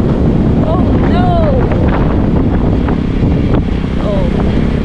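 Strong wind buffeting the microphone on a ride toward a rural plot of land, a loud constant roar throughout, with brief vocal exclamations and squeaky sounds heard over it.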